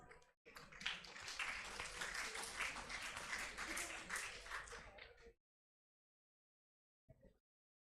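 An audience at a medical talk on gut health at PGI applauds a speaker, producing a dense burst of clapping that lasts about five seconds and then stops abruptly into silence.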